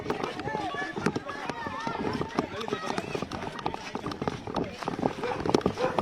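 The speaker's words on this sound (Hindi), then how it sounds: "ये चलने की आहट आप सुन रहे होंगे, भागने की, दौड़ने की" Many people's footsteps as they run away during stone pelting at police over a bulldozer action in Jodhpur, heard as rapid, uneven scuffing and thudding steps in a busy outdoor scene, with shouting and talk throughout.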